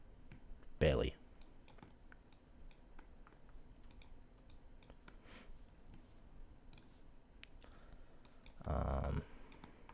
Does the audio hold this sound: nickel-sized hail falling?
no